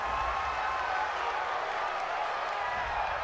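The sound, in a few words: home crowd cheering a call in a football video game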